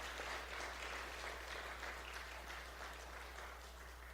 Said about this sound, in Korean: 우리 최창수 목사님 일어나실 때 먼저 우리 뜨거운 박수로